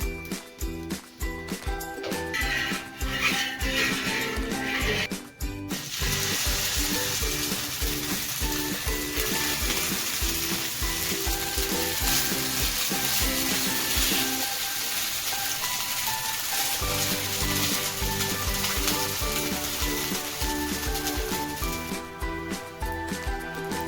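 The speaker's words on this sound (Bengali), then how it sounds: "প্রত্যেকটা গোলা রুটি এরকম করে ভেজে নেবো" Gola ruti batter of onion, salt and turmeric fries in hot oil, giving a continuous loud, close sizzle with crackling throughout and occasional utensil clicks and scrapes.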